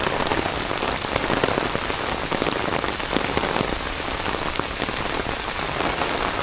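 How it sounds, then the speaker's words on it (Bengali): Heavy spring rain pours steadily and loudly throughout during a lightning storm, a dense even hiss of drops drumming on surfaces with no voices. "একদম ঝুম বৃষ্টি হইতেছে, ঝুম বৃষ্টি"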